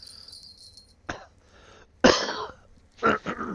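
Rough, throaty coughs come close to the microphone as a few separate bursts with short quiet gaps between them, while a computer fishing game plays in the background.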